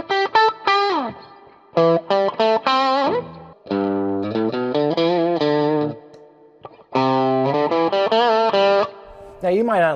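PRS SE Custom 24 electric guitar played through its bridge pickup in two different tones, with clear harmonic chords and riffs in bursts, some distorted and effected, and short pauses between phrases.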